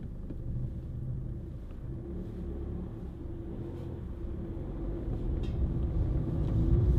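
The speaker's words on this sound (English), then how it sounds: "Little economical diesel, very, very handy thing to have." A 2011 Ford Fiesta 1.4 TDCi diesel panel van on the move, giving a steady low engine and road rumble that swells slightly toward the end, heard from inside with no talking.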